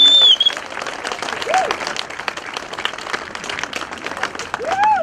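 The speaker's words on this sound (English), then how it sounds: "Let's applaud the Women of Ashland mural." An outdoor crowd applauds steadily at the Women of Ashland mural dedication by the Moores Army Navy building, a continuous patter of clapping with bird chirps and a few voices rising over it.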